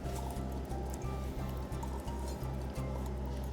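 Thick stroganoff sauce pours into a pot of cooked noodles on the stove, a steady wet glugging, sloshing flow close by with small drips and splats, no talking.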